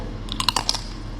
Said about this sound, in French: Et cette coque, elle est tellement croustillante.